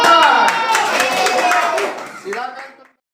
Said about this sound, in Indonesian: Tepuk tangan dulu untuk kelompok 4.